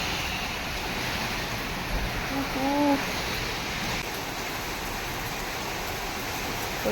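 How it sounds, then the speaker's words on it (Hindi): Rain falls outside a home, a continuous soft hiss of steady rainfall that stays even throughout, with a brief voice-like tone rising faintly midway. "बारिश"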